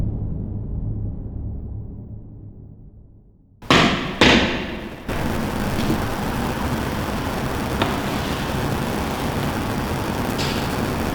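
Inside the abandoned Eloise Asylum, a quiet room breaks into a pair of sharp thuds like rocks thrown down, followed by a steady rushing background with a couple of faint knocks.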